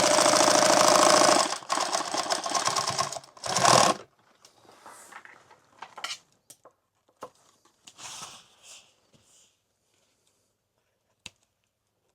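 A sewing machine stitches a padded helmet bag in a loud, steady burst for about four seconds up close. After that it falls mostly quiet, with scattered handling noises and faint clicks.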